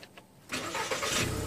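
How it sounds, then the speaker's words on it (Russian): A car engine cranks and catches in a sudden loud roar halfway through, settling into a steady running sound after a quieter stretch of background noise. "Машину заводи."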